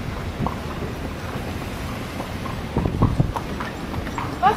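Horse hooves clip-clopping on the street while pulling a tour carriage through Old Montreal, a soft irregular clatter of steps under steady outdoor noise and wind, with a louder knock near the end.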